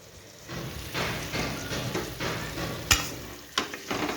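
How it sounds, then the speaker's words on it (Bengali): Small portions of fish fry in a pan with a close, crackling sizzle that rises and falls in uneven bursts, broken by a couple of sharp utensil clicks. "এই মাছটা আমি খাই ওই জন্য অল্প অল্প করে ভাজা করছি"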